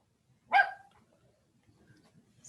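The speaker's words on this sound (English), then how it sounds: "My dog's barking over there." A single sharp dog bark, heard fairly close and alone in an otherwise quiet room, followed by faint low shuffling.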